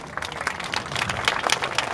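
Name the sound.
audience applause for a dancer on stage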